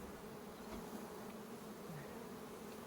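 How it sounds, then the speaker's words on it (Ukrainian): A honeybee swarm hums at the hive in a steady, low, continuous drone with faint passing buzzes of single bees, fairly quiet, with no talk. "нас рій зайшов і вже навіть трошки заніс нам меду"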